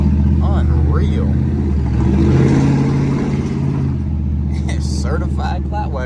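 Pickup truck named Larry, fitted with a new spark plug, new wheels and tires, driving with its engine humming steadily from inside the cab, rising slightly in revs, while a person talks over it.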